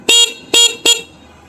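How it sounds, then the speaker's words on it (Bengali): Horn of a Yamaha RX100 motorcycle, three short, loud honks in quick succession, close by, followed by a faint idle. "এই দেখেন হর্ন"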